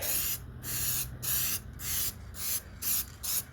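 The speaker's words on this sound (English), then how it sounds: "I tend to choke up with spray paint too. Choke up on the can." Short hissing bursts of an aerosol spray can applying dip coating to plastic car body cladding, about eight quick sprays in a row separated by brief pauses, close and fairly quiet.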